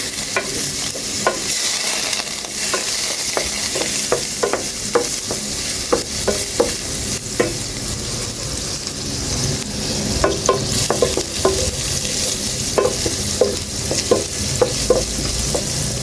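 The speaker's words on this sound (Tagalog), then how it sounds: "magbabrown yung bawang doon sa butter" Garlic sizzles in melted butter in a pan, a steady frying hiss broken by repeated sharp scrapes and clicks of a spoon stirring, close and continuous with no talk.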